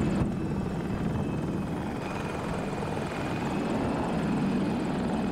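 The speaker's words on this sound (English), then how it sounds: "No, this is Chopper you gotta worry about. He's up top, above us." A KA-520 Super Hokum attack helicopter in the Battlefield 2042 video game thrums overhead, its steady rotor and engine roar loud and unbroken throughout.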